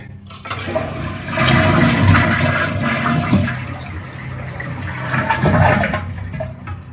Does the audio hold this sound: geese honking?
no